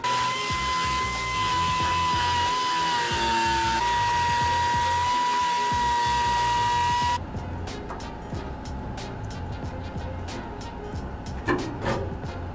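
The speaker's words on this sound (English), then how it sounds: "So I've found an old air die grinder." An old air die grinder runs on compressed air with a loud, steady high-pitched whine for about seven seconds, then cuts off, leaving quieter handling and tapping noises.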